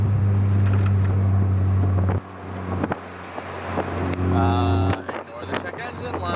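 A Mazda Miata fitted with a big aftermarket exhaust drones loudly at a steady idle, then cuts off abruptly and returns as rougher revving mixed with wind buffeting and voices talking.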